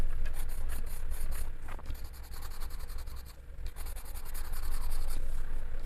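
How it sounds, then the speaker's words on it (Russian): Colored pencils colour on paper up close in steady, rapid back-and-forth scratchy strokes, with brief pauses between bursts and no talking. "Ну и здесь хорошо так карандаши раскрашивают."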